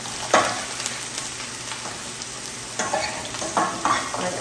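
Onions and spinach fry in a pan with a steady sizzle, while scraping stirring strokes come and go close by.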